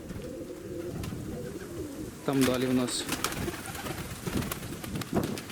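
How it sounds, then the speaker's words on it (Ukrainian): Pigeons coo softly nearby in low, throaty calls while someone talks over them. "Тут мої голуби"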